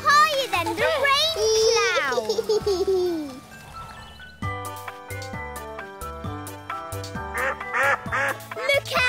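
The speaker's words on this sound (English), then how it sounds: "Look out, ducks!" Cartoon ducks quack in a quick, bright burst up close, followed by a bouncy musical score with plinking notes and a voice chiming in.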